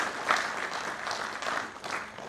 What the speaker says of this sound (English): request all of you to give a round of applause for all these officers, staff, and others